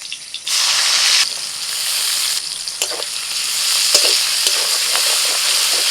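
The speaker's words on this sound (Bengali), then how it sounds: "এবার এই করলা কাটাগুলো দিয়ে দিচ্ছি" Sliced bitter gourd drops into hot oil with a broken green chili, bursting into a loud sizzling hiss that continues steadily, broken by a few scraping stirs and spatula clicks.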